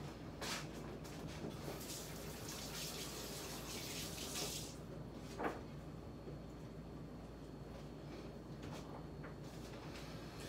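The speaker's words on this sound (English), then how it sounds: "I'm gonna wash my hands off" Tap water running steadily into a kitchen sink while hands are washed during tostada preparation, a continuous hiss of moderate loudness with slight splashing changes.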